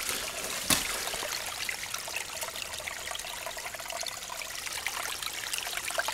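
Sewage water trickles steadily down a creek and into a drain on a residential street, a continuous close bubbling flow with no voices and one sharp knock near the start.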